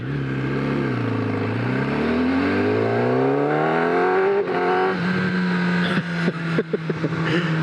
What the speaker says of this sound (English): It's all compression braking from here.